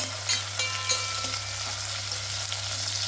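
Small brinjal and okra sizzle and fry in hot oil alongside chickpeas for a tamarind curry, a steady crackling hiss with a few light stirring clicks.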